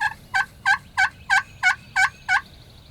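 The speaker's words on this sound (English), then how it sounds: "there's 2 birds gobbling" Two wild turkeys gobbling at daybreak, one nearer and one farther off, giving a rapid series of seven evenly spaced, rattling gobble notes, clear and fairly loud over quiet morning ambience.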